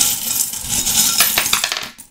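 Small metal charms tossed together for a divination reading, giving a quick cluster of bright jingling clinks and rattles that settle and fade within about two seconds, close and alone.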